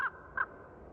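Raven cawing, two short harsh caws a fraction of a second apart, clear and moderately near against quiet background.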